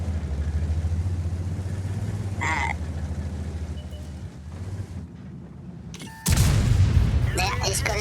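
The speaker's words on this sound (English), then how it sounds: "he's gonna shoot me again, but he missed" Tank gunfire in World of Tanks, heard as a heavy boom that erupts sharply about six seconds in over a steady low engine rumble, with a smaller blast earlier and a sustained roar after the shot.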